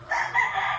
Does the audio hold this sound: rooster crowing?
yes